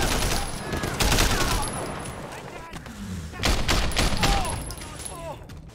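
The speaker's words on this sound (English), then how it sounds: "This assault rifle's nasty." Bursts of assault rifle fire rattle in the Sleeping Dogs video game, fast crackling volleys running through most of the stretch, loud and close, with a voice talking over the shooting.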